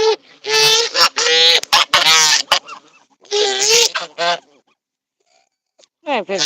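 A pet goose honks loudly and close in repeated bursts, some long and some short, with a brief pause before a final honk.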